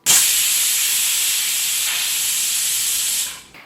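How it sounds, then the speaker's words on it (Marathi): Pressure cooker whistling while bhogi vegetable curry cooks over high heat: one loud, sustained steam hiss that holds steady for about three seconds, then cuts off abruptly. "आणि मोठ्या आचेवर एक शिट्टी काढून घ्यायची."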